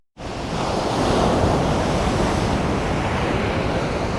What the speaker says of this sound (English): the waves are heaps more gnarlier here than in Bondi